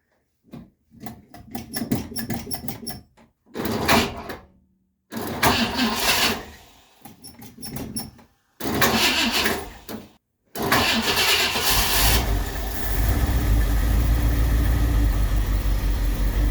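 An old 1959 Ford Galaxie Fairlane 500 engine, unstarted for 14 years, cranks in repeated stuttering bursts with pauses between attempts, then catches and settles into a steady, rough running rumble.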